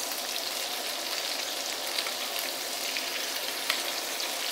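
Tofu for braised tofu sizzles and fries steadily in a hot pan while a spoon flips the pieces, a dense continuous crackle with a couple of faint clicks from the spoon, no talking.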